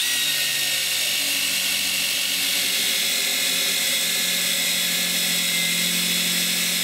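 A power drill spins its bit fast and slow-fed through a wooden slab for a survival machete handle, giving a steady, loud high-pitched whine that holds evenly throughout with no talking.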